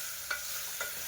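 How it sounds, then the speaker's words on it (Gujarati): Potatoes are being tempered and stirred in a pan of hot oil, with a faint steady sizzle broken by two quick scraping stirs about half a second apart. "बटाका वघराई गया छे"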